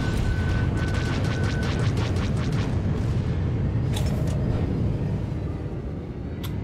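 Deep rumbling blast of a starfighter explosion in Star Wars: The Old Republic space combat, a loud sustained boom that slowly fades, with faint crackles and no speech.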